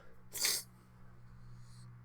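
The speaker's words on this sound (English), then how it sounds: "I'm back after the sneeze" A single sharp sneeze bursts out close to the microphone, then quiet background hum follows.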